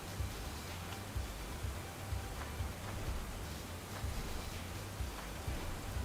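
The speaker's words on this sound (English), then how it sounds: "Why is rain so loud in this game?" Steady, loud rain ambience from the video game Stoneshard, a dense continuous hiss of falling rain with a low rumble underneath, unbroken for the whole stretch with no talking.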